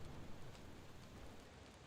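A continuous patter of rain outside a window in a player-built castle level from Game Builder Garage, a dense, quiet hiss that stays level throughout with no talking.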